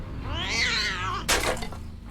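A cat gives one loud, drawn-out meow that rises and falls, followed by a sharp noisy burst, all close and clear with no talk over it.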